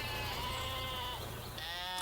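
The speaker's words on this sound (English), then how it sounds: "Look at those sheep. They're jumping." Sheep bleating in a cartoon farm scene, a continuous wavering bleat filling the short moment with no talk over it.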